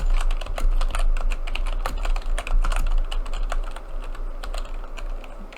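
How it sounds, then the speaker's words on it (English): Rapid keystrokes on a computer keyboard, a continuous patter of close clicks with a low background hum. "sorry if you hear me type on my keyboard."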